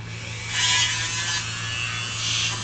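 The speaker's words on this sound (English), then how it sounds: "So now you're going to Dremel out like you're supposed to." A Dremel rotary tool cuts into a plastic Nerf Stormfire blaster in a garage with a steady high buzzing whine and a constant low hum beneath it, close and uninterrupted.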